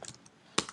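A few quick, close keystrokes on a computer keyboard, a soft cluster of taps followed by one sharper click in a short burst.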